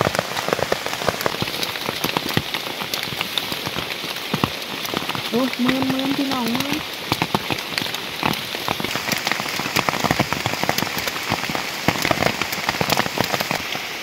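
Heavy rain pours steadily through a forest, a dense patter of drops drumming on leaves and surfaces throughout, while a voice speaks briefly in the middle.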